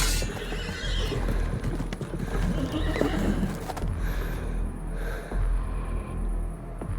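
Horses of mounted soldiers in an audio drama surrounding a boy: close neighs and whinnies over steady clip-clopping hooves and a low rumble, continuing loudly throughout.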